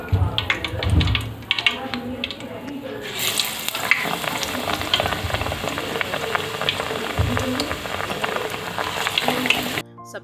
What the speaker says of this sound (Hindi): मिर्चा तेल में डाल के फ्राई कर ली हूँ